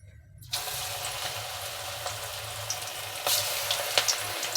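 Cabbage pakoda batter dropped into hot oil, bursting into a loud, dense sizzle after a short silence and swelling again as more batter goes in, steady and close with no talk.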